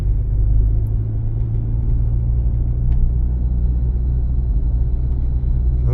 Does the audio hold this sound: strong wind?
no